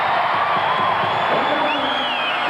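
Basketball crowd roaring in support of the Brisbane Bullets at the 1986 NBL grand final against the Adelaide 36ers, a loud, dense, continuous cheer with whistling over it.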